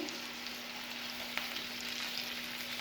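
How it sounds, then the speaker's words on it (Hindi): Chicken malai seekh kebabs fry in oil, a soft, even sizzle with a steady hum beneath and one small tick midway, quiet and without voices. "अब इस साइड पे हम ऑयल ब्रश कर लेंगे और इसको मज़ीद 2 मिनट के लिए फ्राई करते हैं।"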